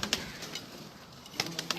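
Racing pigeons kept on a rooftop loft, being readied for a flying contest, give a few faint, short bursts of cooing or wing flutter, scattered at the start and near the end over a quiet background.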